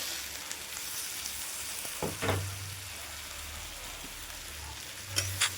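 Capsicum and onion with tomatoes frying in a pan for egg chilli, a steady sizzle with a few spoon knocks and stirring scrapes, close and alone.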